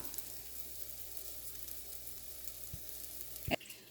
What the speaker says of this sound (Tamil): இது நல்லா அடுத்த பக்கம் பொரியட்டும் பொரிய விட்டு எடுக்கலாம்